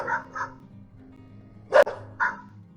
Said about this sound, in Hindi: फिर क्या था, यह सोचकर शेरू जोर से भौंका